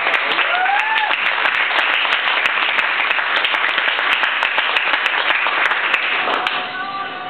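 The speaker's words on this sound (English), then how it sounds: "Miss Peoples and all of your parents in the room tonight deserve a special round of applause" An audience in a room claps for a teacher and parents, a sustained round of applause with a voice or two rising over it, tapering off near the end as a speaker starts.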